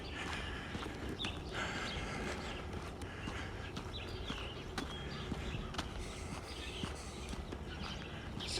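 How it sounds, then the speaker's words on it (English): Footsteps of someone walking up from behind on an outdoor morning walk in Regina, a steady fairly close patter of treads over constant broadband street and ambient noise, with no talk. "Somebody's coming up behind me. Don't know if they're catching me or not, but I can hear their footsteps."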